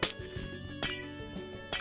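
Glass blocks breaking in Minecraft, three sharp clinking shatters spaced about every second over a steady game background, fairly quiet with no talk.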